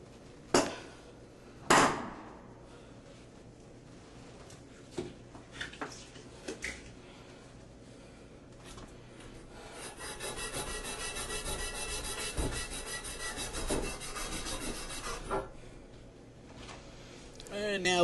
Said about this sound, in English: use the flux brush to get the excess solder off of there